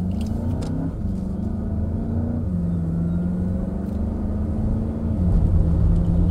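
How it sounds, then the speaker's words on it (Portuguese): A Volkswagen Jetta GLI with a 2.0 engine accelerating, its steady engine drone rising in pitch, dropping at each gear shift, then climbing again, heard from inside the car with no talking. "Christian, repete aí pra galera ver como é que foi o arranque desse carro ali"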